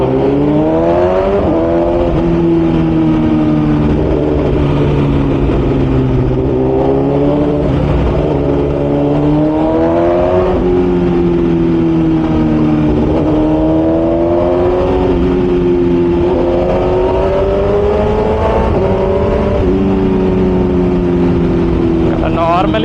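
A vehicle running without a full-system exhaust accelerates along a road, its engine note rising and falling through repeated revs, loud and close throughout.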